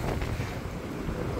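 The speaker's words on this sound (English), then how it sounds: "It's a little bit windy, but there's quite a few rocks about." Wind gusting on the Holderness coast, buffeting the microphone in a loud, continuous rumble with a few short gusts, no speech.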